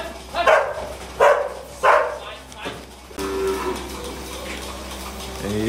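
Farm dog barking in short bursts, about three loud barks close by, among dairy cattle being fed on a milking farm with many calves, with lowing and general barnyard noise continuing afterward.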